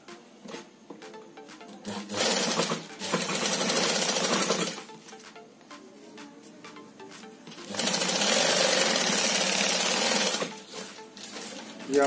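Electric sewing machine stitching the handle of a handmade fabric shoulder bag, running in two long steady whirring bursts with quieter handling and fabric rustle between them.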